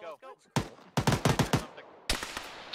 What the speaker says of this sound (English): everyone on the beach is just getting shot at